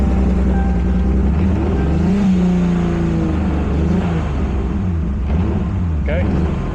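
A Toyota Supra MKIV with a drive-by-wire setup fires up and settles into a loud, steady idle with a brief rise in revs, a rough continuous engine drone close to the microphone with no talking.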